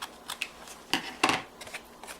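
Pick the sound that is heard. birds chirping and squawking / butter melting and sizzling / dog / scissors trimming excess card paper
scissors trimming excess card paper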